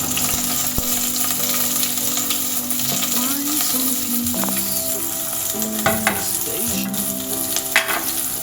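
Onions, green chilli and curry leaves hit about two tablespoons of hot oil in a pan, crackling and sizzling loudly and steadily for several seconds while a spatula clinks and scrapes against the metal now and then.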